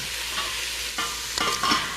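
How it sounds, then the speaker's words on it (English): Sausage sizzles and browns in a pan over medium-high heat while a utensil stirs it, a steady frying hiss broken by a few scraping clatters close to the microphone, no talk. "we're going to put the sausage here now. We're going to brown our sausage."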